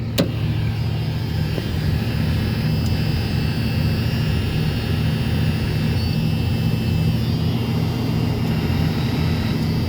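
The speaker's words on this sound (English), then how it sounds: "That's the AC compressor coming on" Under the hood of an idling 1978 Ford Thunderbird, the AC compressor kicks in with a sharp click at the start, followed by a steady, loud engine drone throughout.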